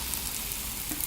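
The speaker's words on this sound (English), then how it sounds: "So it's gonna sizzle a little bit," A soft, steady fizzing crackle of an Aztec clay mask mixture bubbling and sizzling continues evenly for a brief moment.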